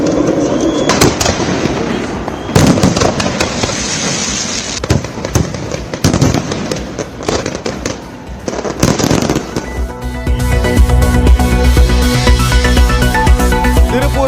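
Fireworks burst over the Ganges riverbank during a night display with a laser show, a dense run of cracks and booms rolling on continuously, loud and fairly close, ending in a thick barrage near the end.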